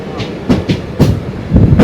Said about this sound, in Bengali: এটা কোনো প্যাসেঞ্জার টাইপের ট্রেন হবে।